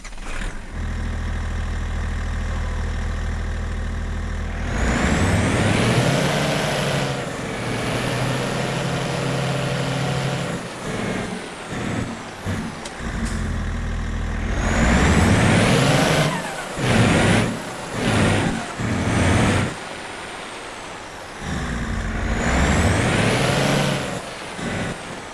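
A tow truck being rebuilt as a fire tow truck with a new bed runs loudly close by, its engine rumbling and idling steadily, with revving swells and sharp air-brake hisses breaking in several times.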